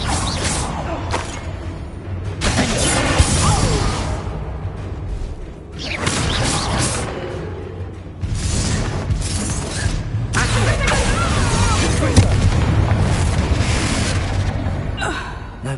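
Spells being cast with bursts and booming explosions in combat in Hogwarts Legacy on PS5, a loud, dense barrage across the whole span with brief lulls, while a voice speaks spell names over it.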